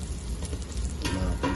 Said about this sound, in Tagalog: Nagigisa na natin yung ating sibuyas.